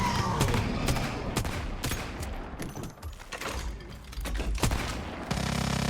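Pistol gunfire in the survival shooter Once Human, with sharp shots cracking in quick, uneven bursts among game effects and rumbling booms.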